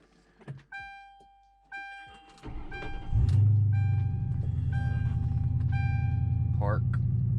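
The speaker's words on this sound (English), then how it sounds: "I'm gonna get the car started here." A Crown Vic's starter cranks briefly after several chimes and clicks, then the V8 catches and settles into a steady, loud, low idle rumble.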